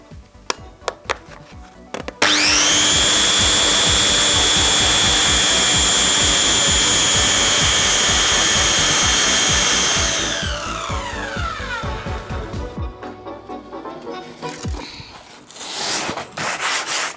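A circular saw makes an angled cut along the edge of a wooden board: a loud, steady high whine for about eight seconds, then the blade winds down with fading hum and rattling.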